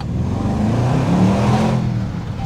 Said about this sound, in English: This thing sounds sweet, man. It's a V8, sounds great.